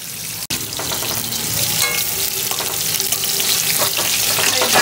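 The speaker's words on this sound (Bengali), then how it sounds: "কুমড়োটাও ভাজা হয়ে গেছে" Pumpkin pieces fry in hot oil in a kadai, giving a loud, steady sizzle with occasional stirring scrapes throughout.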